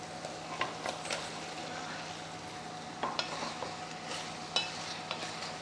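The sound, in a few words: mushrooms added and stirred into tomato curry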